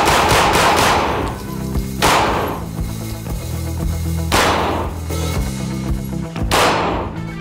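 A Glock 45 pistol with a 19X magazine fires outdoors, giving four loud, widely spaced shots that each ring out with a long echoing tail.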